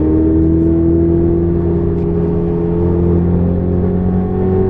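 Race car engine at Silverstone pulling hard under acceleration, a loud steady droning roar with rising harmonics, close and continuous with no talking.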